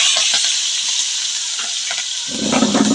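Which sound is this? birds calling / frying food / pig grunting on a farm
frying food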